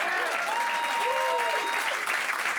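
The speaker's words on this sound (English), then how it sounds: "Come on, give her a big round of applause" A magic show audience applauds a volunteer coming on stage, steady dense clapping at moderate level, with faint voices and a few thin whistle-like tones riding over the crowd.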